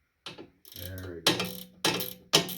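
A ratcheting wrench turns a nut on an Ariens 28 Deluxe SHO snowblower, giving four quick clicking ratchet strokes, close and clear with short pauses between them.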